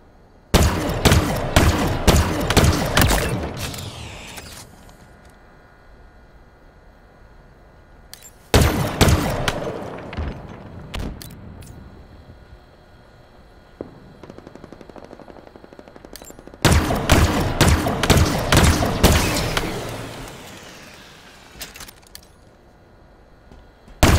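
Rapid automatic gunfire in a Halo Slayer match, coming in three loud bursts of quick repeated shots, each trailing into echoing decay with a few scattered single shots between.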